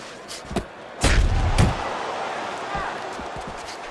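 Gloved punches thump home in the Fight Night Champion boxing video game, a couple of heavy blows close together under a commentator's voice.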